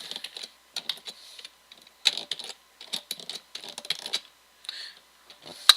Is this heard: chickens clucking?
no